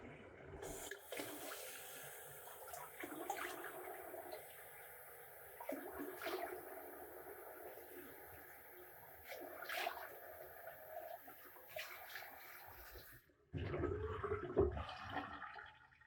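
Water runs from a tap during a shave rinse, a steady close hiss broken by splashes and hand movements, ending with a brief louder gush.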